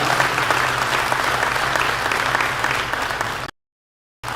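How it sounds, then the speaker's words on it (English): An audience at a sheriff candidates' forum gives a loud, sustained round of applause, a dense crowd of clapping hands that cuts off abruptly before a brief silence and a return of sound. "Let's give them a round of applause for being here tonight."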